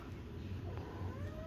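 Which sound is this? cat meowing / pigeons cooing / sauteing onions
cat meowing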